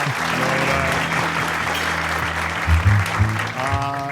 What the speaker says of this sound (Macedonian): аплауз за Христијан Мицкоски.